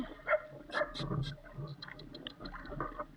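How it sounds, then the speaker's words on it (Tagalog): A dog gives short yips and whimpers at close range, with faint background noise around it. "may aso mga brad"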